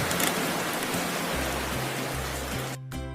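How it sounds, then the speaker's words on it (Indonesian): Steady dense rainfall pours as a sound effect for acid rain, a loud even hiss with a low musical tone beneath, cutting out briefly near the end. "Terus, turun hujan asam."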